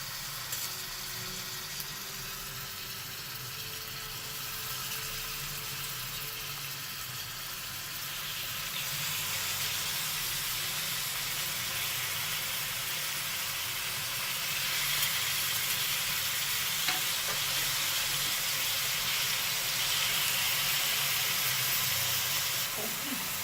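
Pieces of goat meat sizzle steadily in a few spoonfuls of oil on a hot tawa, a dense, continuous frying hiss that swells slightly partway through, close and without talk.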